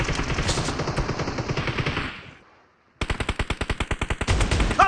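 Rapid automatic gunfire in the mobile shooter PUBG Mobile, a loud sustained burst that fades out, then a second crisp, evenly spaced volley of shots after a brief pause, close and dominant.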